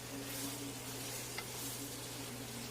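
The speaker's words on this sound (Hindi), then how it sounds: "यूँ अच्छी तरह से हम इसको हिलाते हिलाते फ्राई करेंगे।" Chicken karahi with tomatoes frying in a pan, a low, even sizzle under gentle stirring with one faint utensil tap, quiet and steady against a humming background.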